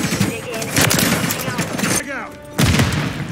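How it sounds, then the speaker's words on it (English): Sniper rifle fire in Call of Duty Modern Warfare 3 multiplayer: loud, repeated gunshots and booming impacts over ongoing game noise, with a brief lull before another heavy shot. "Just casually sniping"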